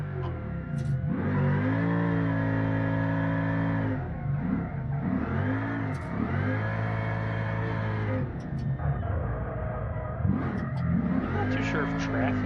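Car engine in the BeamNG driving game revving hard through long sustained pulls while drifting, rising and dipping in pitch with brief lifts between, loud and close, with someone talking over it.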